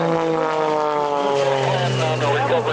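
A propeller airplane performing a torque roll at EAA AirVenture, its engine a loud sustained drone with rising and falling harmonic tones, with a voice talking over it.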